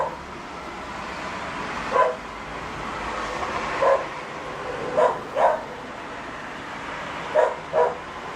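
A dog barks outside in spaced single and double woofs, moderately distant, over a steady background hiss with no talking.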